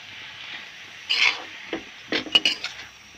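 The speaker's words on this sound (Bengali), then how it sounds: "এখন নাড়াচাড়া দিয়ে ভেজে দেবো।" Water spinach with turmeric, salt and green chilies being stirred and fried in a pan, heard as faint scraping and a few sharp clinks of a utensil against the pan over a quiet sizzling hiss, close up.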